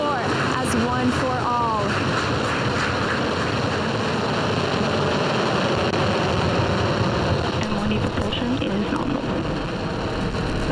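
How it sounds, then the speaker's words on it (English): A SpaceX Falcon rocket's engines ignite at liftoff for a NASA crewed mission to the space station, a heavy, continuous roaring rumble that fills the scene evenly, with a voice faintly present beneath it. "5, 4, 3, 2, 1, 0. Ignition."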